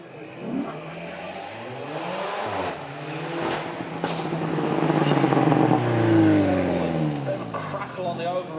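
A 1.7 litre 4-cylinder car engine on the overrun, heard at a supercar event, popping and burbling as revs rise and fall, with someone talking over it throughout.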